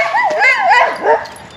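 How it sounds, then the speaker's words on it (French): A dog barks and yips in quick bursts close by, its high, whining calls rising and falling over about a second and a half. "Il y a du chien qui aboie."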